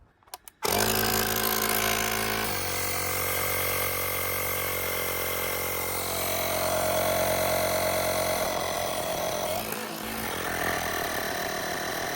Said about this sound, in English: so that did take quite a lot of air, so quite a lot of air back in the tyres